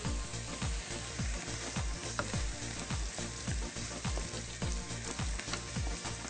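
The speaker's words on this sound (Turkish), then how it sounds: "soğan ve havuçları güzelce kavurduktan sonra üzerine şöyle biberleri de ilave edelim" Onions, carrots and peppers sizzle and crackle steadily in a hot pan, with repeated soft scraping strokes of stirring in a regular rhythm.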